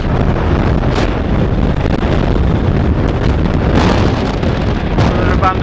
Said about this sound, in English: The wind's really picked up now here